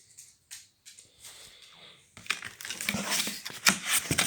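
Cardboard packaging of an Intex ZX300 pool robot being opened and unpacked, with sparse crinkles and taps at first, then a dense run of loud tearing, crumpling and scraping close by.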